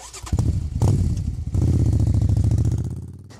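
A Suzuki V-Strom 800 RE motorcycle engine cranks and fires, catching after a couple of brief attempts, then settles into a loud, close, steady throbbing idle that fades slightly at the end.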